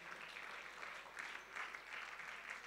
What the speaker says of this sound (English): Clap your hands for them.